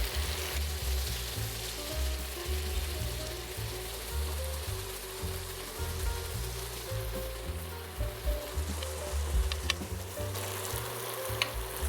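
Swordfish sizzles steadily in a pan as melting butter is spooned over it, a close continuous frying crackle with soft scraping and occasional spoon clinks.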